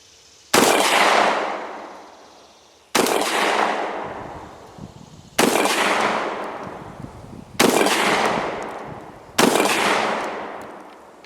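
An SDS Titan semi-automatic 12 gauge shotgun fires buckshot in five loud, booming shots, each spaced about two seconds apart, with a long echoing decay after every blast.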